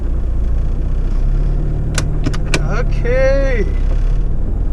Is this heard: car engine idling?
yes